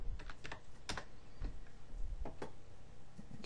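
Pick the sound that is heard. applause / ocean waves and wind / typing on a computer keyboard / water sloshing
typing on a computer keyboard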